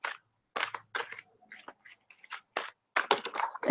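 Oracle cards are shuffled by hand in a deck, giving quick, crisp riffling and snapping bursts with short pauses between them, close and fairly quiet.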